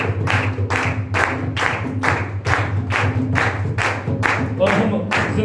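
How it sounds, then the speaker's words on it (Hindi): A crowd at a church-style worship gathering claps together in a loud, regular beat of about two strikes per second, keeping time over a droning musical backing. "जोर से ताली बजाएंगे सब।"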